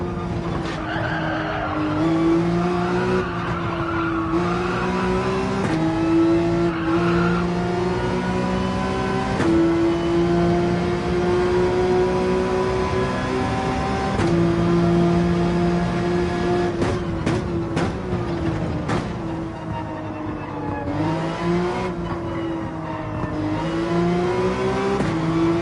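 Race car engines in Gran Turismo 7 on the Dragon's Trail track, running on soft tires: a continuous loud engine whine rising and falling through gear changes, with tire squeal and skidding as the car brakes and accelerates through corners.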